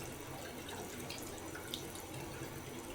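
Tap water runs steadily while eyelashes are washed to remove balm, a continuous close hiss of flowing water with faint splashes and no talking.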